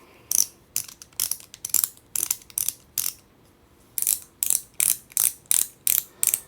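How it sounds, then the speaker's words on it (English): A gear clicker fidget toy, a small scroll-wheel gadget, gets wound in quick bursts of sharp ratcheting clicks, close and crisp, separated by short pauses. "This is a gear clicker."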